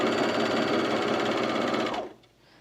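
An overlocker sewing machine stitching stretch leggings fabric, a fast steady mechanical whirr running loud and close for about two seconds before stopping abruptly, leaving faint room noise.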